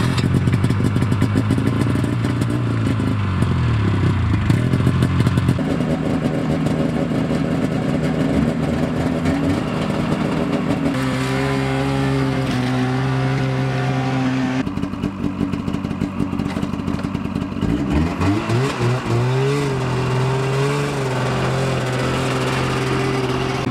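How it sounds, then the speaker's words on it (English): Snowmobile engines run steadily at close range for the whole stretch, their pitch rising and falling as the machines are moved around a muddy property, with clattering mechanical noise and no talk. "I gotta get these snow machines moved out of the way"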